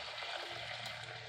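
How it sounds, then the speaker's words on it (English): Shrimp broth pours steadily through a spaghetti strainer, making a continuous soft splashing rush of liquid that stays even from start to finish, with no talking. "So we're just going to pour this right in there."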